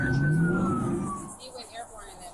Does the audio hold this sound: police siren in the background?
yes